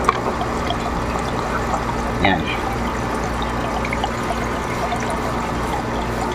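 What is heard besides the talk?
water flowing from aquarium pump outlet into sump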